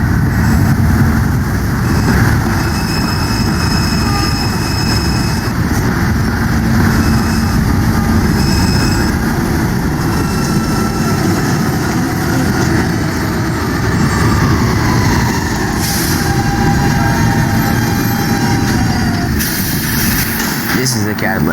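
A New York subway D train made up of R46 cars, heard from onboard as a loud, continuous rumble and rattle with a rising and falling motor whine through the ride.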